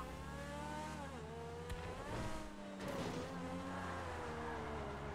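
A car in GTA V revs and accelerates with a steady, loud engine drone whose pitch rises and dips through gear changes, with a short tire squeal midway.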